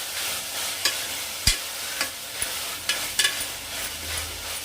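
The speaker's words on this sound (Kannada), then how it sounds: "ಈ ರೀತಿಯಾಗಿ ಚೆನ್ನಾಗಿ ಫ್ರೈ ಮಾಡಿಕೊಂಡ್ರೆ ಚೆನ್ನಾಗಿರುತ್ತೆ" Food fries in oil in a pan, a continuous sizzle with occasional scrapes and taps of a spatula, close and fairly quiet.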